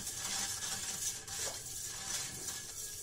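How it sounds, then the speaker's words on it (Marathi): Salt being stirred into water in a wide, shallow pan, heard as a steady, close swishing and scraping swirl that carries on alone without pause. "हे नीट मिक्स करून घेऊ"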